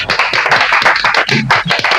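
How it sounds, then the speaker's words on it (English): A small audience claps after a classroom presentation on blood platelets. Quick, close hand claps patter unevenly and keep going for about two seconds. "Let's clap for us."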